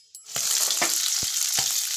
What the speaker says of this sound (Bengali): এখানে আমি মাছ ভাজছি কড়াইতে মাছ দিয়ে দিচ্ছি আর মাছ ভাজা হচ্ছে